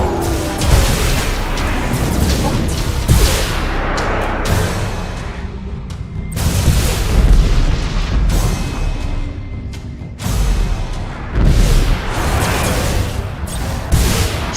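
An Imperial escort ship blowing up in the space strategy game Battlefleet Gothic Armada 2, a loud continuous barrage of booming blasts and rumbling crashes with sudden cuts and surges.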